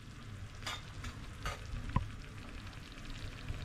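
Spices frying in hot oil for an egg dish, a soft continuous sizzle with a few spatula scrapes and one sharp clink against the pan, no voices.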